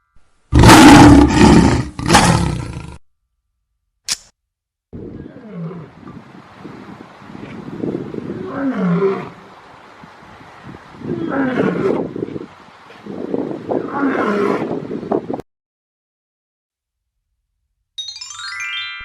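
Lion roaring in a series of deep, loud, rasping roars that come in separate bursts with short pauses, after a brief louder sound at the start.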